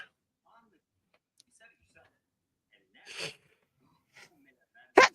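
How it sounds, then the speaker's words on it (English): A single sharp sneeze bursts out near the end, loud and close, after quieter scattered sounds in an office setting; a fainter breathy burst comes earlier. "I sneezed and went down like that"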